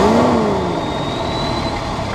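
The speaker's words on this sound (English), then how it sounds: "Here's the 2F original engine with all the emissions equipment in place and intact." A 1983 Toyota FJ40 with its original 2F engine and intact emissions equipment runs close by, giving a steady, loud engine drone that dips slightly from an initial rev.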